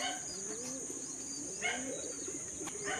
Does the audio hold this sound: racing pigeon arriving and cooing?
yes